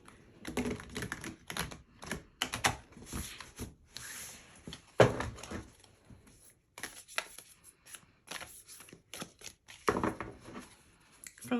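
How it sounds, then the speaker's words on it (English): Tarot cards are shuffled by hand in irregular bursts of quick papery riffles and taps, close and crisp, separated by short quiet pauses, with no talking. "One more shuffle."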